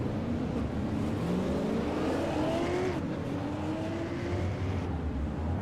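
Race cars roar around a speedway at Lakeland in a SARA super series event, a steady loud engine drone with rising and falling pitch as cars pass, distant and continuous.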